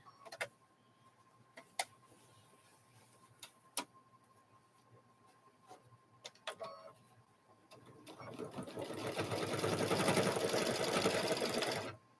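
A sewing machine stitches a quilted handbag, first as a quiet hum broken by several sharp clicks and taps. It then builds into a loud, fast, continuous run of stitching over the last few seconds.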